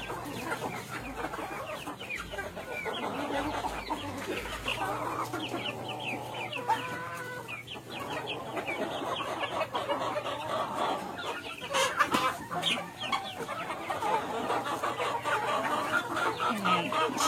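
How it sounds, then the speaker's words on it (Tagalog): Newly released chicks and chickens clucking together in a backyard, a busy chorus of clucks and peeps near and far, with a voice speaking partway through. "Sama-sama na yan yung mga pinakawalan nating sisiw."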